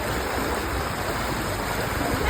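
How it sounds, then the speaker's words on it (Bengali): River current rushes past at Agradwip, a dense, even wash of flowing water filling the short stretch with no pauses. "দেখো জল স্রোত কিভাবে যাচ্ছে"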